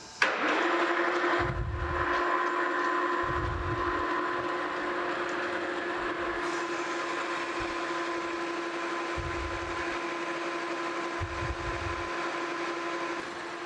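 Metal lathe turning a new caster spindle for New Britain vise cart casters, cutting about 100 thousandths per pass; a steady, close machine whine with a constant tone, broken by a few low thumps.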